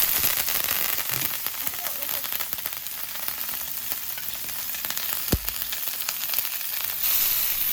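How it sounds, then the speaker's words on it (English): A steak sears in a hot oiled pan with thyme and garlic, giving a loud, continuous close-up sizzle with fine crackling spits. One sharp clack lands near the end. "Keep the pan on high heat and add oil. Place the steak on the pan and add thyme and garlic."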